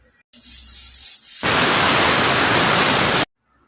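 A pressure cooker cooking dal lets out a loud, sustained steam whistle that starts, rises to a strong hiss, then cuts off abruptly, heard close.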